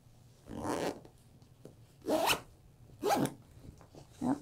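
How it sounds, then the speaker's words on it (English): Zipper on a fabric packing cube pulled closed in four separate rasping strokes, close and crisp, with short pauses between them. "I'm gonna zip this"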